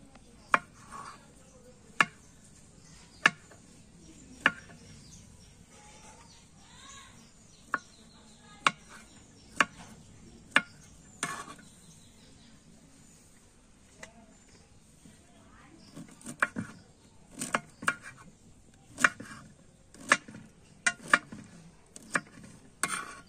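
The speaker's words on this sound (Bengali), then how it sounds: "এবার আমরা এগুলোকে একটু বড় বড় করে কেটে নেব" Knife cutting peeled winter mushrooms into large pieces on a board, sharp isolated chops spaced irregularly at first, then quicker clustered cuts toward the end, over faint background.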